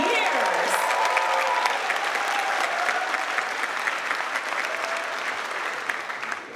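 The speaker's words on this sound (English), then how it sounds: "Let's give ourselves a round of applause" Audience applause at a 50th-anniversary Whitney graduation ceremony, a dense, steady wash of many hands clapping that holds loud throughout and tapers slightly at the end, with voices faintly mixed in.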